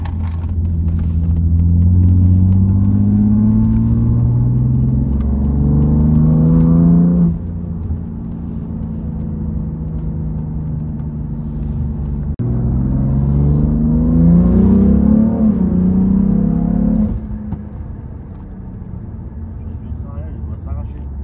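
A stage 2 tuned BMW M3 F80 with over 600 horsepower accelerates hard, its engine climbing loudly through rising revs in two long pulls with a shift between them, close inside the cabin, and then settling to a lower drone.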